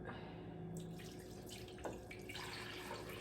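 Water runs and splashes steadily into a pot over pieces of corned beef, with a few brief louder splashes partway through.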